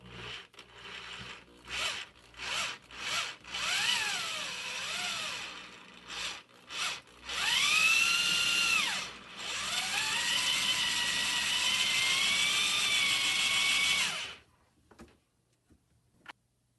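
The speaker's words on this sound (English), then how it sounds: "you're going to drill this into the wall so that way it's flush" A power screwdriver whirs in several short bursts, then runs longer with rising and falling pitch as it drives a screw into drywall, ending with a brief click.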